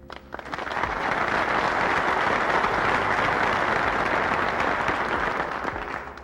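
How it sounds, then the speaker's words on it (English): A lecture audience bursts into sustained applause, a dense wash of clapping that swells within the first second, holds steady and loud, then begins to fade near the end. "Before you clap, let me point out"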